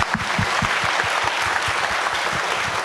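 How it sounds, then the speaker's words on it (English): A conference audience claps steadily for the panel at a CSIS/Nikkei symposium session, a dense, even wash of hands with a few distinct nearby claps. "If you would give a big round of applause, please, to the panel"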